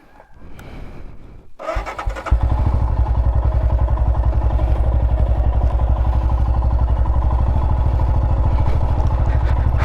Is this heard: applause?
no